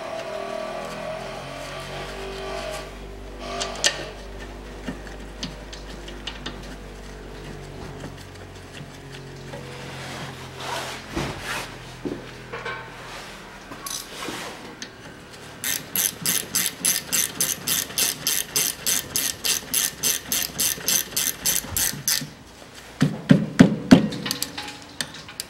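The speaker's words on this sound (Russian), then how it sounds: "И закручиваем болты." Ratchet tightening bolts during a rear brake pad replacement on a 2013 Mitsubishi ASX 1.8, heard as close, rapid repeated clicking bursts with metallic knocks and handling noise around them.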